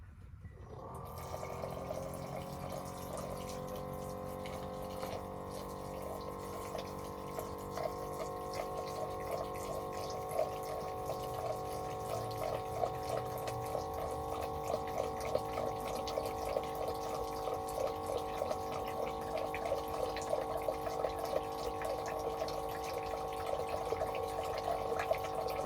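Water pours steadily from a tap into a bowl of taco dough mix, a continuous close trickling stream with a faint watery hum running for about twenty-five seconds, no one speaking.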